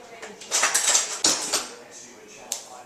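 A big kitchen spoon scoops shea butter from a jar, making a few scraping clinks and knocks against the container, short and close.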